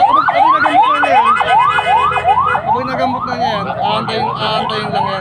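Ambulance siren wailing in a steady, repeating rising-and-falling sweep, loud and close, during an emergency response to a Grab accident in Manila, with faint voices underneath.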